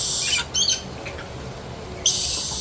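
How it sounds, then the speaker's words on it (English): Pet birds squawking in short harsh bursts, loud at the start and again near the end, with a quieter gap between, no talk. "Okay, we'll come back to the birds."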